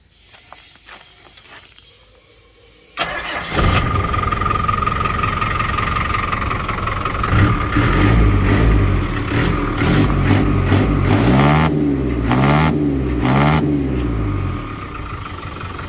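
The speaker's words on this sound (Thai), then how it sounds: "อาจจะลอง ติดเครื่องฟังเสียงครับ" A large, freshly rebuilt diesel engine in a six-wheel truck starts up and idles with a deep, steady rumble, then revs several times in rising and falling bursts.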